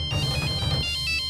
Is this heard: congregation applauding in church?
no